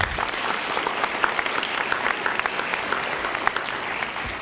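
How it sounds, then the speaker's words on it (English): Applause at a 2013 Bridgemont CTC commencement ceremony, a steady dense clapping from a large audience that holds at an even level for several seconds with no pause. "So I think we should give her a round of applause for that."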